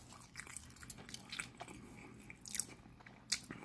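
Someone bites and chews a Golden Krust spicy Jamaican beef patty up close, with soft crunches of flaky crust and moist chewing sounds coming in small irregular bursts, quiet overall.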